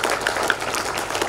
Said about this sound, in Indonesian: Tepuk tangan dong buat kita semuanya.